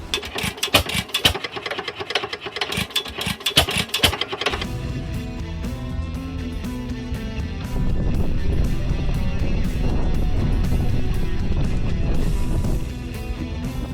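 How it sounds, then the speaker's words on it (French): An old make-and-break engine runs nearby with a rough, rapid chugging that cuts off after a few seconds. A dense, steady mechanical drone follows, swelling louder midway before easing. "Je pense qu'ils appelaient ça les make and break engines."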